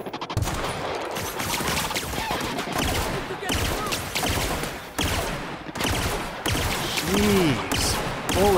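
Gunfire rattles through a fight in The Outer Worlds, with dense, rapid shots coming in close bursts over several seconds alongside other game sounds.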